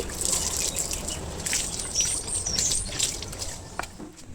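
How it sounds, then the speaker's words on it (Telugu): Water trickles and splashes steadily while rinsing dishes, with a few clinks and high chirps in the background; no talking. "కడిగేసుకుంటున్నాను వాటర్ పెట్టి"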